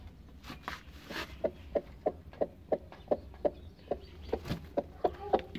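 A hen clucks close by in a steady, evenly spaced series of short clucks, with faint farmyard background noise.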